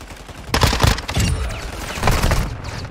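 Loud shotgun blasts from a video game boom in heavy, rumbling bursts, followed by a denser barrage of firing and a trailing echo.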